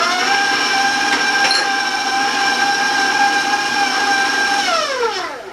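Electric hand mixer whirring steadily as it beats cranberry cookie dough after vanilla and almond extract go in, a continuous close motor whine with strong tonal harmonics that drops in pitch near the end as it slows.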